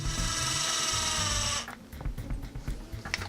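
A small electric screwdriver whirs steadily for about a second and a half while driving screws into the servo mounts of a Team C TS2 short course RC truck, then stops, followed by light handling clicks.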